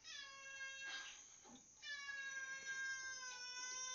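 A cat meows close by in a quiet room: two drawn-out, tonal meows separated by a brief soft gap.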